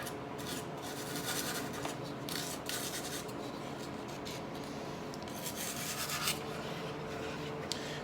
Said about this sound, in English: I'm just going to put in a little bit of wood filler on these little nail holes that were set